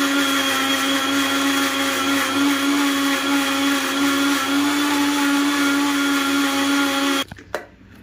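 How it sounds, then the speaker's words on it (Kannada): Kitchen mixer grinder grinding green masala with rock salt, a loud steady high-pitched motor whine running continuously for several seconds before being switched off abruptly, then a short clatter; no talking. "ಇವಾಗ ಇದನ್ನು ಮಿಕ್ಸಿ ಮಾಡ್ಕೊತಾ ಇದ್ದೀನಿ"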